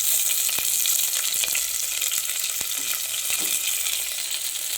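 Onions frying in a pan for paneer biryani, with a constant close sizzle and occasional sharp clicks of a spoon against the pan.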